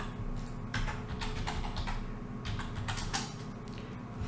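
Steady clicking of a computer keyboard as a title is typed in PowerPoint, the keystrokes coming in quick bursts over a low background hum.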